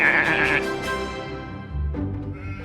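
Sheep bleat in a loud, nasal, wavering cry close by, followed by further lower bleats from the flock, with no talking over them.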